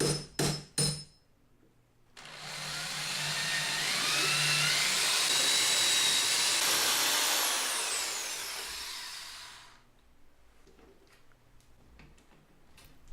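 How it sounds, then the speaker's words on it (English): A vacuum cleaner cleaning metal dust off an ITG2 dance pad replica: a few sharp clicks, then a loud, steady roaring hiss that holds for about eight seconds before cutting off, leaving quiet room tone. "Vacuum cleaner cleans everything off."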